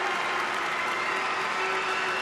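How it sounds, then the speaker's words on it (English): Crowd applause at a women's football match, a steady even wash of distant clapping filling the whole moment without a break. "big round of applause, deserved round of applause"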